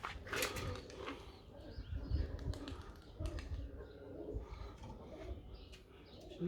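Pigeons coo softly in a coop, low murmuring calls repeating at close range amid faint rustling and light tapping, the whole scene quiet.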